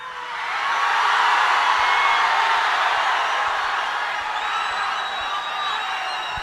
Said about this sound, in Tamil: நன்றி உங்களோட அன்புக்கும் கரகோஷத்துக்கும்